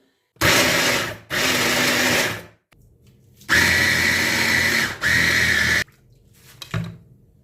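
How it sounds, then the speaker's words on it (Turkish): A small kitchen mixer grinds half a chicken breast into mince, running in loud, steady bursts of a few seconds each with short pauses between, ending with a brief faint pulse. "ben yarı yarıya mikserim küçük olduğu için yarım tavuk göğsü yarım tavuk göğsü olarak ezeceğim"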